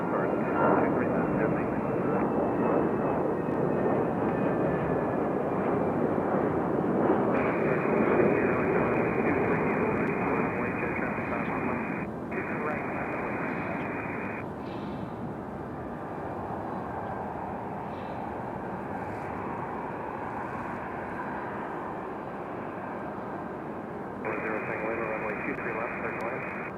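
A Republic Airways regional jet arriving from JFK at Raleigh-Durham passes with a steady, loud engine roar that swells and fades, accompanied by intermittent radio chatter.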